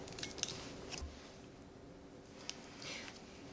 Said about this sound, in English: And then just snip off the bottom of the bag.